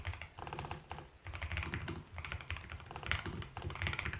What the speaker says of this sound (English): My typing is abysmal today.